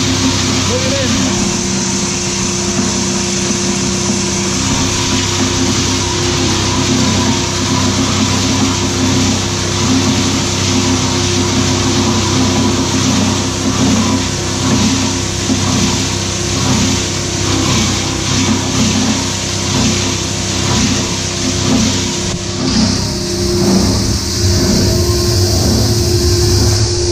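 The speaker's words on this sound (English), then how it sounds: "I'm just going to turn on the granulator now. First the blower, then the granulator." A granulator runs with a blower feeding it, giving a loud, steady mechanical roar with a constant low hum and rattling grind. Voices are heard now and then, and the tone shifts near the end.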